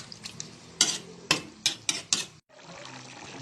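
Chicken afritada is stirred in a pan after water is added: a string of spoon scrapes and clinks against the pan over a soft simmer, with no voice.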